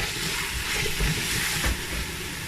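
Tomato and Scotch bonnet pepper hit a pan of frying carrot and onion, giving a steady, dense sizzle with a loud crackling hiss and no voices.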